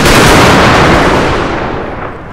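A loud, close artillery blast from an American Civil War Total War battle at Franklin, 1864, a single heavy boom that rolls out and decays over about two seconds.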